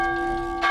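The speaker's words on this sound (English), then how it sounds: "I see a big bell which screams medieval." A big bell, medieval in character, rings with a single sustained tone of steady overtones, loud and close, with a fresh strike near the end.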